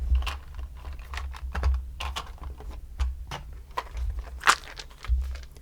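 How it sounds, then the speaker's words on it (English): A set of Harry Potter dice rolled during a tarot reading, clattering in a quick run of small, sharp clicks and taps, close and moderately loud, with no talking. "Okay, so we're rolling the 7th set of dice. Those are the Harry Potter dice."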